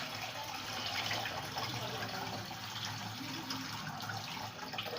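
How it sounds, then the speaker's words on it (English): Tap water runs steadily into a sink to rinse soup ingredients, a constant close splashing hiss with no break for several seconds. "Open tap inside and rinse it thoroughly."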